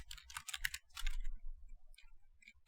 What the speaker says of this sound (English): here you type make link